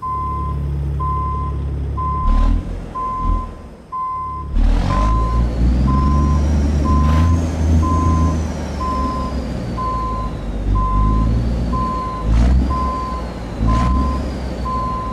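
Reversing beeps from a truck backing up in American Truck Simulator, an International Lonestar, with a steady repeating electronic beep over a loud low engine rumble and occasional air-brake hisses.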